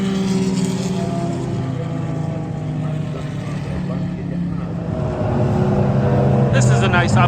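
Race cars roar past at the Watkins Glen 6-hour endurance race, climbing uphill out of the boot section. Engine noise is continuous and loud, with one car swelling nearer and higher-pitched toward the end.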